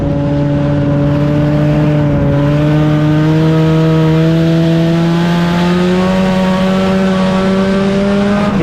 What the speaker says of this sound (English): the white and blue 78 up into the corner as the 4-cylinder drivers shake things down out here